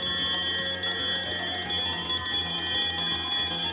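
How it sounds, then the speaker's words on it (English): A Kanon character alarm clock rings with a loud, continuous electronic alarm tone that holds steady without pause, close to the microphone and with no voices. "This is how the alarm sounds."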